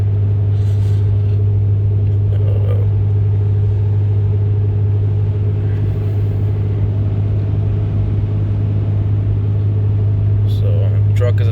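A 2018 Ram pickup with a 6.7 Cummins diesel driving at steady speed, a loud constant low cabin drone and rumble, with a person talking over it.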